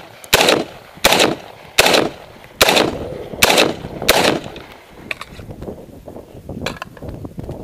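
Five loud, sharp shots from a PA Patriot pistol fitted with a CQB muzzle brake ring out at an even, roughly steady pace, each with a ringing tail, followed by quieter outdoor range noise.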